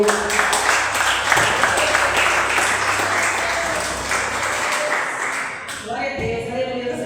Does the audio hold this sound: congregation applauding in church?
yes